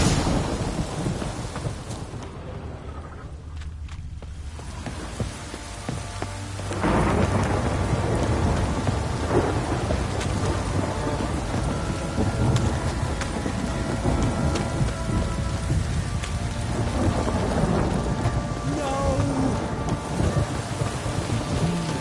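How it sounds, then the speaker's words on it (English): A thunderstorm in The Witcher 3 game world: heavy rain pours steadily on surfaces while deep rolling thunder rumbles, swelling louder partway through and continuing without talk. "This downpour's a bastard, it is."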